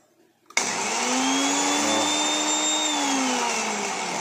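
An electric blender with a defective pulse button switches on abruptly after a brief quiet moment, then whirs loudly and steadily with a high motor whine, heard alone and close up.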